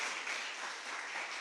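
An audience at a direct-selling business talk applauds for the One Vision business school with a brief, dense wash of clapping at a moderate distance.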